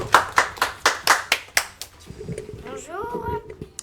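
A small group claps for two cup and gold-medal winners in a radio studio: a steady run of sharp, close handclaps that fades after about two seconds, followed by voices exchanging greetings.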